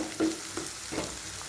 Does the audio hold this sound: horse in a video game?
no